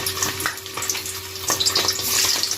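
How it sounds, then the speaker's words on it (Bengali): Paneer pieces frying in hot white oil, heard close as a lively crackling sizzle with bursts of spattering pops throughout. "এবার এর মধ্যে পনিরগুলো আস্তে আস্তে দিয়ে দেবো"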